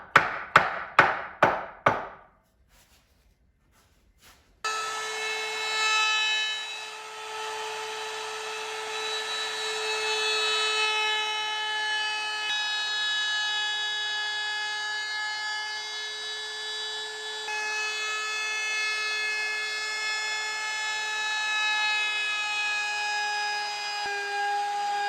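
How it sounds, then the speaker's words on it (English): A wood router braced on a plywood jig of clamped pieces runs with a steady high whine for about twenty seconds, following several sharp close knocks and a brief silence. "that'll give my router lots of support for when we go do the cuts."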